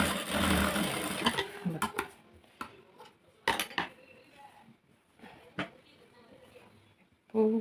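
A sewing machine stitching an extra joint into a garment sleeve, heard as short bursts of clattering needle action and sharp mechanical clicks between quieter pauses, close by.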